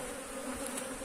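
Worker honeybees buzz at an open hive during a queenless on-site colony split. A steady, close swarm drone runs unbroken without any voices.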